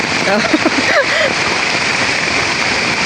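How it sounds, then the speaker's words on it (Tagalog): Continuous heavy rain during a typhoon, a dense steady hiss close by, with a brief voice early on and then rain alone. "Ngayon po eh tuloy-tuloy pa rin po ang ano ulan."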